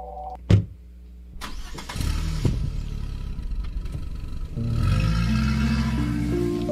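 A car engine in a 3D horror game turns over and starts after a sharp click, then settles into a steady low idle that swells louder near the end, heard alone without talk.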